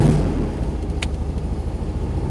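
The air-cooled engine of a 1968 VW Karmann Ghia starts while hot and settles into a close, steady, throbbing idle, with one brief click partway through and no voices.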